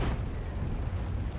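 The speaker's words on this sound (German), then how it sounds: "Arti hält rein, trifft aber auch nicht." A single heavy artillery shell explosion in a tank video game (World of Tanks, map Studzianki), with a deep rumbling body that rolls on and decays across the whole moment, loud and close, with no voices.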